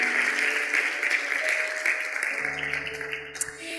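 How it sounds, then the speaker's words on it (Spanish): Church congregation clapping loudly, a dense wash of applause for several seconds that thins toward the end as music or a low hum comes in underneath. "Dale un fuerte aplauso a Dios"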